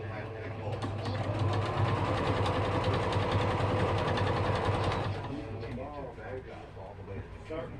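A sewing machine stitches a quilt-as-you-go block in one steady, close whirring run that stops after about five seconds, with a voice talking faintly under the motor.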